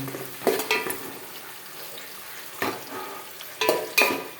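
Cumin seeds and onions sizzle in hot oil for a vegetable curry, a soft steady fry punctuated by a few loud spoon scrapes against the pan, close up with no speech.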